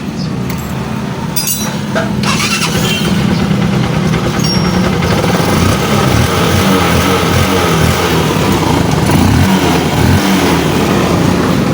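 A Honda TMX Supremo motorcycle, repaired after a pulser fault that cut its spark, catches and runs with a loud, steady engine drone that fills the whole stretch, with a few brief clicks near the start.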